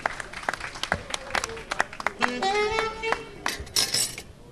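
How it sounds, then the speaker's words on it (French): Scattered, uneven clapping from an audience at a launch ceremony, with individual claps standing out over murmuring voices and musical tones in the background. "acclamation, s'il vous plaît"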